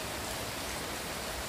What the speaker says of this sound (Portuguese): tá até calma a chuva